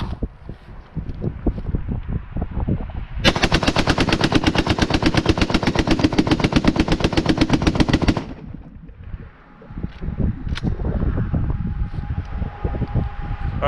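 An AK-47 rifle with a drum magazine bump fires hollow points outdoors, a loud rapid burst of closely spaced shots lasting about five seconds, with single shots and wind buffeting before and after.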